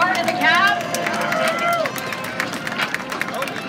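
Crowd at a Monster Jam truck event in Stafford Springs, Connecticut, clapping and cheering in a broad, sustained wash of applause with whistles, mixed with busy arena noise and voices.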